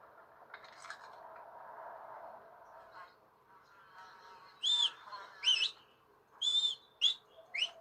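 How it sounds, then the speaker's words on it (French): Whistling from a player character in the Red Dead Redemption video game: several short, bright whistled phrases in the second half, following a stretch of softer, murmuring game ambience. "C'est moi qui siffle."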